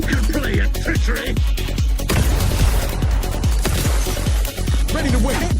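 Dense, rapid gunfire from the video game The Outer Worlds 2, with loud repeated shots in quick succession and booming impacts throughout, and a voice briefly talking over the barrage.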